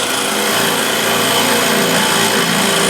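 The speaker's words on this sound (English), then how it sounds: "for that I'll use a square and scraper, this smaller one" A small hand scraper drawn along a squared stepped detail cut into a wooden piece, giving a steady, dense rasping scrape that runs continuously and loud throughout with no pauses.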